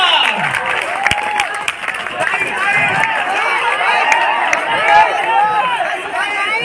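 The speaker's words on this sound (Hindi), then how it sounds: "जोरदार तालियां हो जाए" Dense crowd applause fills the whole stretch, steady and loud, with cheering and excited voices mixed into the clapping.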